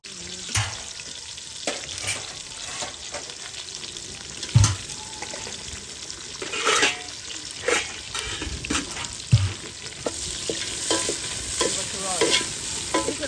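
Onion and cinnamon frying in hot sesame oil, cooked outdoors, with a steady broad sizzle, scattered clicks of stirring and scraping, and a few louder utensil knocks, close and fairly busy.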